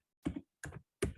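Computer keyboard keys are pressed in three quick clusters of clacks as keyboard shortcuts are typed, close and fairly crisp with silence between.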